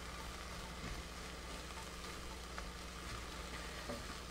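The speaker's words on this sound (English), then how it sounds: "you can hear it like coming up to heat, starting to sizzle" Savoy cabbage with salt sizzles steadily in a hot pan, a faint, even crackle and hiss with a low hum beneath, no voices.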